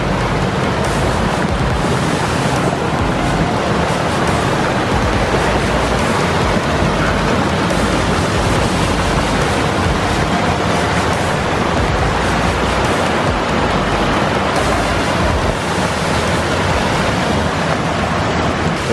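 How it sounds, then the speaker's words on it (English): A waterfall pouring into a fast-moving stream in a large stone-built pond, a dense, constant rushing roar of water, loud and close, with no voices. "This is the section, the little fast moving stream where the waterfall discharges."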